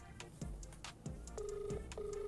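A telephone ringing quietly in the background, with two short electronic tones amid faint clicks and room noise.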